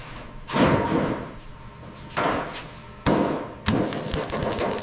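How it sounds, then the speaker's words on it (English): Heavy metallic blows of a hammer reshaping car body metal on a 1960 Lincoln Continental, struck at intervals, each ringing briefly before fading, four loud impacts spaced about a second apart. "Reshaping the metal. Listen to the rhythm of the hammer."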